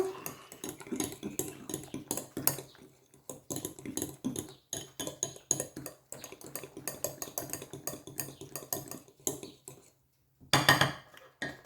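A spoon stirs crème fraîche and lemon zest in a bowl for a dessert, with repeated close clinks and scrapes against the dish in an uneven rhythm and a brief pause near the end.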